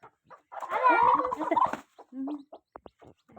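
A hen clucks and squawks in a burst of agitated calls, followed by a few shorter clucks and clicks, close up with quiet gaps between.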